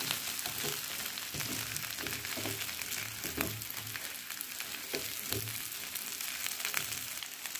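Paneer chilli ghee roast sizzles in a hot pan while being stirred, a steady close frying hiss broken by soft, regular scraping and mixing strokes.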